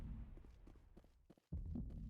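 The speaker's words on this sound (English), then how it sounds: "I forgot they have the heartbeat sound effect in this game" A low, muffled heartbeat effect in a video game pulses steadily at close range, with a brief drop to near silence just before it returns.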